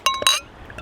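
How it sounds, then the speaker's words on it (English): Glass clinks brightly as craft beer, a double dry-hopped New England IPA, is handled and poured into a glass: two quick, loud chinks close up, then a faint trickle. "Beer in the glass then."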